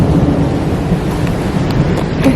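A thunderstorm with lightning and rain: a loud, close, rumbling roll of thunder sustained over steady rainfall, with no voices.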